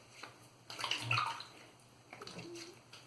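Water splashes and sloshes as shaving lather is rinsed off a face, two bursts of close splashing with dripping and quiet gaps between them.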